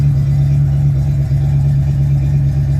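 Truck engine with a Flowmaster exhaust runs up close, a loud, steady low burble holding an even drone throughout with no voices.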